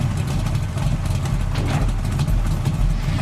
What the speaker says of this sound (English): He's revving his V8 muscle car from 1970s.